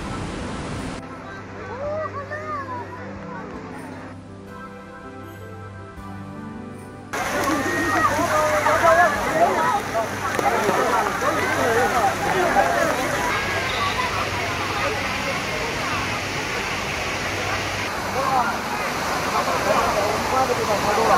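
Water rushes continuously at a natural hot spring waterfall, a steady broadband roar that swells louder partway through, with a crowd of people chattering around it.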